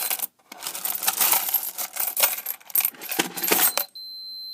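Coins shuffle and clatter inside an SG-595 coin hopper in a dense, close metallic jingle lasting about four seconds, with brief pauses, then stop abruptly.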